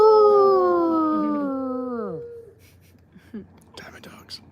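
A dog gives a long, loud howl that slides downward and fades over about two seconds, followed by quieter scattered sounds.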